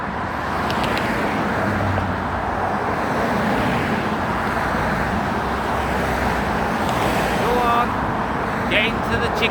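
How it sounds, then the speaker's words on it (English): Road traffic passing by in a continuous roadside rumble, with cars and heavier vehicles droning at steady loudness, and faint talk partly under it. "Let me wait till this traffic's done."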